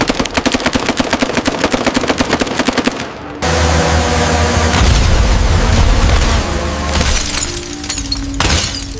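Rapid automatic gunfire from a US aircraft carrier's guns engaging low-altitude attack drones, a dense stuttering burst giving way to heavy booms, shattering crashes and continuous loud battle noise, close and alone without talk.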